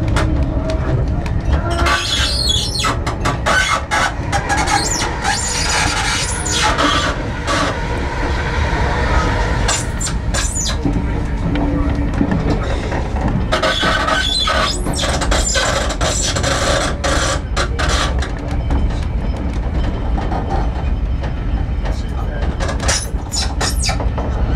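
On a rail tour, a train rolls slowly past parked locomotives with a steady rumbling roar and intermittent clanks and wheel squeals. People talk nearby throughout.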